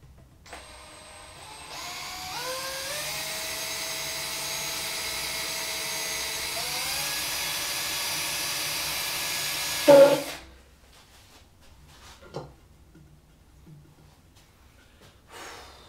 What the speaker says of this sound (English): Then I'm going to drill through.